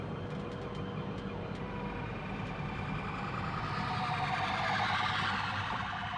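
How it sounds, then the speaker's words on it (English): An emergency vehicle siren wails outside on a street, a continuous rising and falling tone that grows louder over several seconds, heard from inside a small Citroen Ami car. "Oh yeah, siren here."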